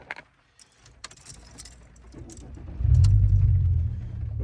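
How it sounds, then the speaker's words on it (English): Engine of a Volkswagen Golf Mk4 V5 starts up after a few faint clicks and rustles, settling into a steady, fairly loud low idle hum close by. "if I start the car up"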